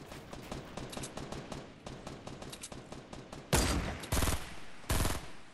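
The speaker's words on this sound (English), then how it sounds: "yeah, they're shooting me." Rapid automatic gunfire from Fortnite Battle Royale rattles in dense bursts, ending with three louder, closer blasts.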